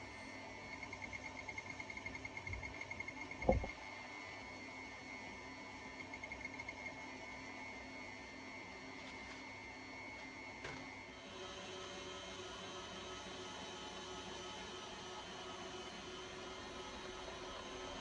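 Electric mixer whipping cream in a bowl toward butter, a steady faint mechanical whir with a few knocks and a shift in pitch partway through, no talking.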